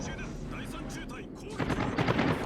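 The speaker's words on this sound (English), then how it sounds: "they went in for a strafing run" Aircraft strafing a ship with gunfire in the World of Warships naval video game, a loud continuous rattle of rapid shots that builds into heavier bursts toward the end.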